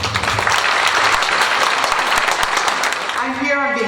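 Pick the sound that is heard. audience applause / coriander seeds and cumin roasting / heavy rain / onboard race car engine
audience applause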